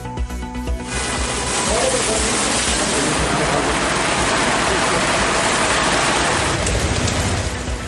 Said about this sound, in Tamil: உதகை கூடலூர் பந்தலூரில் கொட்டி தீர்த்த கனமழை